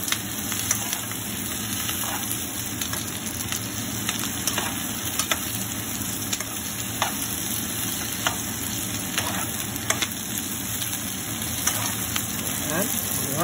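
Carrots stir-frying in a hot pan before shrimp go in for sweet and sour shrimp, a steady close sizzle with repeated scraping stirs throughout, loud and continuous.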